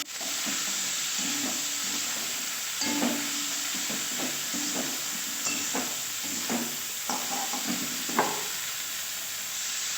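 Spice masala sautéing in oil for a rohu fish ball curry gives a soft continuous sizzle, with repeated scraping and stirring knocks from a spatula in the pan at a moderate, uneven rhythm.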